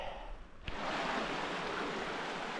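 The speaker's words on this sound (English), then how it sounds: "Allison Falls. A lot of water." Rushing stream water at a trail crossing near Allison Falls on the Cohos Trail, a loud, steady broadband wash that swells sharply after a brief softer moment, with no voices.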